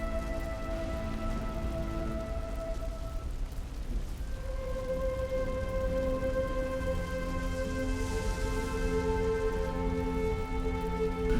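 Steady rain hiss in the shooter Halo 3: ODST, a continuous close wash of falling drops on city surfaces among towering skyscrapers, with faint tonal game ambience layered beneath and no talking.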